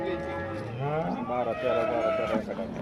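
A cow moos at a livestock market, a drawn-out low call rising in pitch and wavering over a couple of seconds amid nearby crowd chatter.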